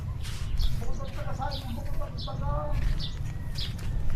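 Birds chirping outdoors in Batangas, short bright calls repeating every half second or so over a steady low rumble of background noise, fairly close and moderately loud.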